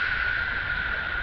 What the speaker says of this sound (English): So our noise sounds like this. Fizzy.